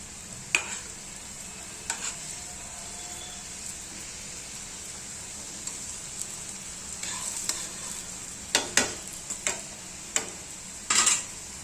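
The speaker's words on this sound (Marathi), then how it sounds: "ब्राऊन कलर होईपर्यंत तळून घ्यायची" Karanji pastries deep-frying in hot oil, a steady soft bubbling sizzle with occasional clinks and scrapes of a slotted spoon against the pan, sharper clatter bursts toward the end, no voices.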